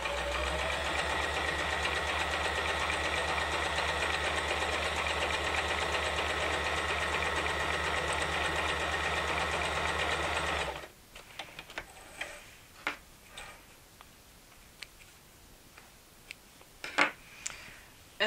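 Sewing machine running a dense, full-width zigzag stitch, a steady loud mechanical hum with rapid regular ticking for about eleven seconds, then scattered quiet clicks and taps once it stops.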